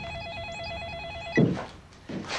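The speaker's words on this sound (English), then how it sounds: "are you gonna answer the phone?" A telephone bell rings in a steady repeating trill, then cuts off abruptly as a louder thump and rustle of the handset being picked up follows.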